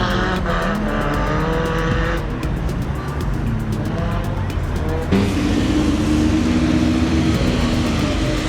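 Car engines roaring in a monster car race, a loud continuous revving drone with gear shifts and a sharp change around the middle, close and steady with faint talk underneath.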